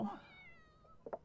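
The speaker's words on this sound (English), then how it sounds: "Why is our cat meowing?" A cat in The Sims 4 lets out a single drawn-out meow with a falling pitch, fairly quiet, followed by a brief soft chirp at the end.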